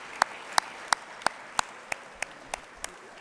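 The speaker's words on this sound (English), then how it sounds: "Please join me in another round of applause for our honoree, Dr. Kevin Lee Churchwell." Applause for an honoree at a hospital CEO toast comes through as a slow, sparse series of about nine distinct claps, evenly spaced and faint against quiet room tone.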